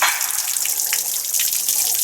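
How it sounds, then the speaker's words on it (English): Water drains out of a Dennis Dart bus cooling system during a water pump replacement, a steady splashing gush pouring continuously, close and fairly loud with no talk. "Turns out the bus had quite a bit of water in it still."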